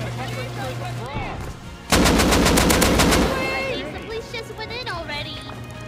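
Rapid automatic gunfire in the video game Rust during a base raid, a loud burst of about a second and a half of close shots, with players talking over it before and after.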